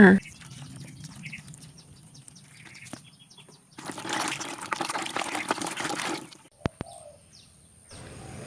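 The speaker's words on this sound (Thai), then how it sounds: "นำมาทำความสะอาดเพื่อล้างดินออกค่ะ" Running water splashes over vegetables and fruit as soil is rinsed off before they go into a fermented fertilizer, with a loud gush in the middle. Brief speech and lighter trickles come before and after it.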